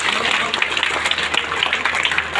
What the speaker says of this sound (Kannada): ಜೋರು ಚಪ್ಪಾಳೆ, ಜೋರಾಗಿ ಮಳೆ ಬಂದ್ರೆ ಹೆಂಗಿರುತ್ತೆ ನೋಡೋಣ